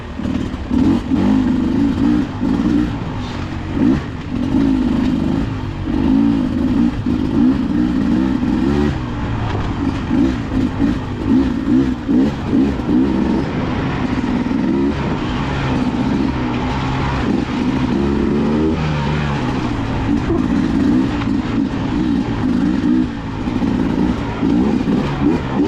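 A Beta motorcycle is ridden at a demo day. Its engine revs and drones loudly and continuously, rising and falling as the throttle changes, close to the microphone, with no talking.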